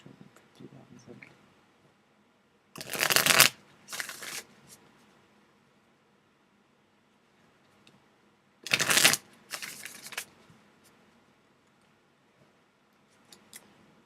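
Tarot cards are shuffled in two separate bursts, each a loud, crisp riffling flutter followed by softer shuffles, with quiet pauses in between.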